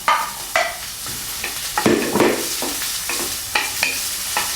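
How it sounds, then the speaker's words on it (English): Ginger, garlic, scallion and dry chili sauté over low heat in a wok for Kung Pao chicken, a close, steady sizzle broken by scraping stirs and tossing scrapes at irregular intervals. "Saute over low heat until it turns aromatic."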